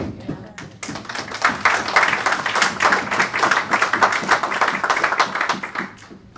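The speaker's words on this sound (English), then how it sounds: "You're going to want to stop clapping for a minute" Audience clapping at a Lions Circle talk, a dense, steady burst of many hands that starts after a short pause and carries on loudly to the end, with faint voices mixed in.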